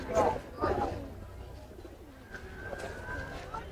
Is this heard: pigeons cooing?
yes